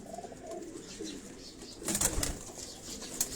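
Pigeons on a rooftop in Karachi's Defence area give low, soft coos, with a brief flutter of wings and a few sharp high ticks midway, all under a steady outdoor hiss.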